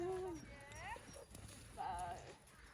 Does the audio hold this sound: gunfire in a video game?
no